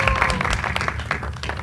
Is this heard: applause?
yes